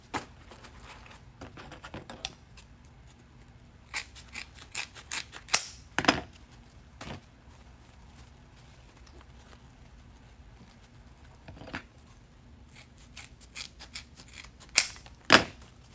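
Scissors snip through ribbon while a Mardi Gras wreath is being made. Quiet, crisp cuts come in small clustered bursts separated by stretches of near silence.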